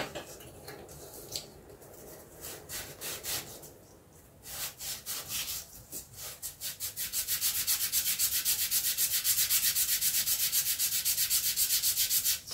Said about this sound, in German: das noch ein bisschen schleifen